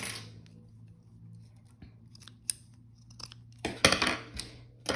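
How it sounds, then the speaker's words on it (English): Scissors snip through lace for junk journal embellishments, with a few sparse close clicks and then a quick cluster of crisp cuts near the end, over quiet background and no talk. "And I'm gonna cut it off."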